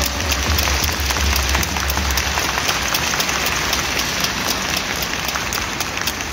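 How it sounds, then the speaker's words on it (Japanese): At an Avispa Fukuoka end-of-season ceremony, a stadium crowd applauds in a loud, dense, continuous wash of clapping that fills the whole stretch with no letup, heard from within the stands. "大きな拍手をお願いします。"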